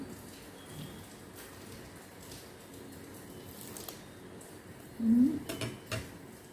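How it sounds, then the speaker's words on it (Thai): Steady rain patters and rushes under strong gusting wind, without thunder, with a few louder clatters near the end; no voices. "ลมแรงแล้วก็มีฝนแต่ว่า ไม่มีเสียงฟ้านะ"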